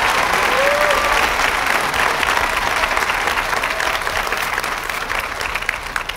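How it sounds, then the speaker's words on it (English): Sustained applause from a crowd at an elementary school Blue Ribbon ceremony, steady clapping that fills the whole stretch and tapers slightly toward the end. "Let's give these community partners a round of applause"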